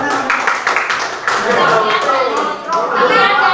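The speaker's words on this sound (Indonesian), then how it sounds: "kita beri tepuk tangan untuk kelompok" Classroom audience claps for a presenting group during a teaching performance assessment, a short burst of scattered hand claps mixed with overlapping talk and chatter from people in the room.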